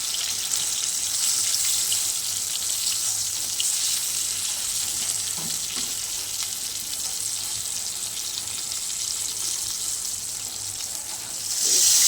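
Catla fish coated in turmeric, chilli and cumin powder sizzles in a pan, a steady hissing fry close by that swells louder near the end.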